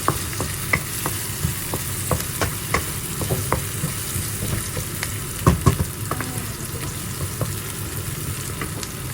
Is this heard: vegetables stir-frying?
yes